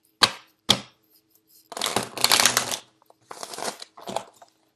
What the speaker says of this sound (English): This is a new deck, and it is very, very, the cards are very thick and stiff, so it's really hard to shuffle.